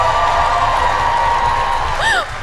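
A comic convention audience in Tampa cheers and whoops for cosplayers crossing the stage, a loud sustained crowd roar with a rising shout near the end as a voice talks over it.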